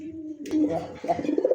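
A white pigeon on a farm coos in low, rolling bursts, with a brief sharp noise partway through and faint speech in the background.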